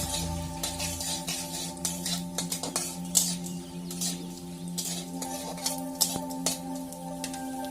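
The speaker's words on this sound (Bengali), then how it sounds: "আর আমি ঘিটাকে একটু নেড়ে চেড়ে দিচ্ছি" Ghee with raisins and nuts is stirred in a wok for a sweet, with soft scraping and light metallic clinks over a faint sizzle and low background hum.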